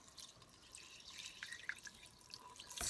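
Water trickles and drips into a container during homemade organic soap making, faint and close, with small splashes and drops that grow busier toward the end.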